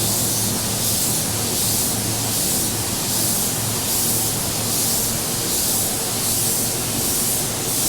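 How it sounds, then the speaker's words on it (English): A continuous, loud hiss of a paint spray gun spraying clearcoat runs without pause, steady and close, with a faint pulsing in its texture. "I'm gonna start spraying air here, Clearcoat here, and then come down."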